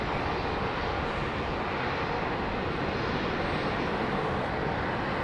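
Aircraft at London Heathrow Airport, a steady broadband jet engine roar holding at constant loudness throughout with no talking.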